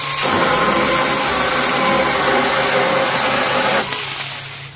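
Cordless battery chainsaw with a sharp blade cutting through wood, its steady loud whine holding for about four seconds before tapering off.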